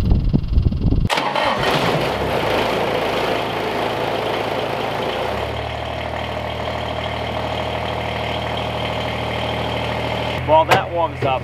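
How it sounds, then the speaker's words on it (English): A Kubota tractor sitting in snow cranks over and catches, then settles into a steady, close low idle that runs on for several seconds, with brief rustling noises near the end. "We haven't used the Kubota in quite a bit, so we better let it run for a while."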